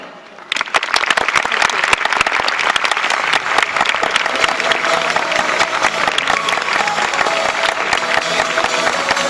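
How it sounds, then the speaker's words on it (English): An audience at the Campus Party 2013 opening ceremony breaks into loud, sustained applause for guests and VIPs, a dense wash of clapping with some crowd noise that swells in abruptly and holds strong. "a massive round of applause for our fabulous guests and our wonderful VIPs of Campus Party 2013"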